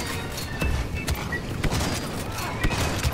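Blaster fire in a Star Wars Battlefront II battle crackles in a steady barrage of sharp bursts, with heavier thumps standing out now and then over dense ongoing combat noise.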